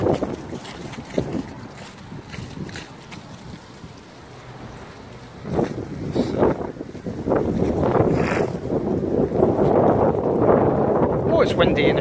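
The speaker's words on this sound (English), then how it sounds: "It's windy, and if you're hearing the wind on the microphone, I apologise." Strong gusts buffet an outdoor microphone in a continuous rumbling roar that swells louder through the second half, with voices faintly mixed in.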